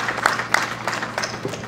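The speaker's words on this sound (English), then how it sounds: "I would like you to applaud him for that" An audience applauds at the state burial of Dr. John Mitala, a brief burst of steady, close clapping from many hands with a few sharper claps standing out.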